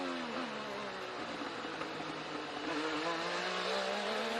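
IndyCar race cars at the Detroit Grand Prix street race roar past in a steady, loud engine drone with slowly shifting pitch, the sound swelling slightly toward the end as cars pass near.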